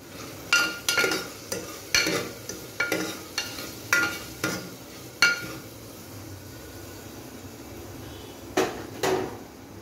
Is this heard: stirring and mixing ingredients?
yes